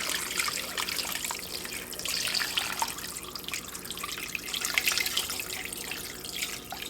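Tap water runs steadily into a cooking pot, a continuous rushing trickle at moderate level with no talking.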